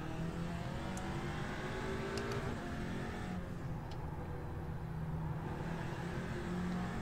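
Audi RS3 race car in iRacing on the Tsukuba circuit, engine droning steadily with a shift in pitch partway through as it drops gears under braking, close and continuous with no speech.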